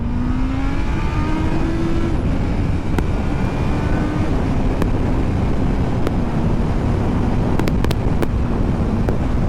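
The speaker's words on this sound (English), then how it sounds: "So let's just see what it feels like with a bit of revving." A loud, steady engine drone with a rising then settling pitch under heavy wind rumble, like a 2021 Honda CB650R or CBR650R motorcycle revving in second gear while riding.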